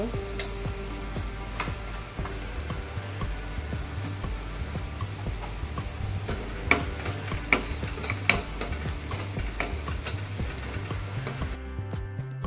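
Onion fries in a pan with turmeric and asafoetida while a spoon stirs, giving a soft continuous sizzle broken by frequent rhythmic scraping ticks and a few louder clacks, no voices.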